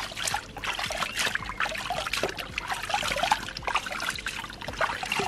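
Water trickles and splashes steadily while a small dog is rinsed during a bath, with no talking, only the continuous close pouring and dribbling sound.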